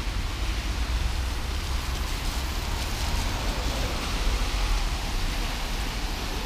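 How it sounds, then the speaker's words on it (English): Steady, dense rainfall coming down in China, a continuous hiss of drops on surfaces close around, unbroken and even throughout with no voices. "it's no fun to get wet, but I prefer this over cold rain"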